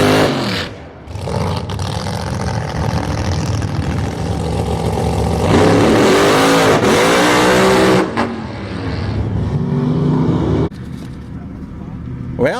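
A 2013 Dodge Ram pickup makes a quarter-mile drag run at a strip. The loud engine roars, climbs through gear changes and holds a sustained drone, and a voice is heard over it.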